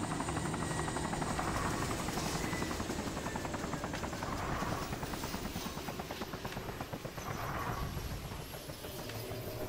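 A helicopter in the survival game DayZ drones steadily with a continuous rotor chop and engine whine, loud and close throughout with no talk.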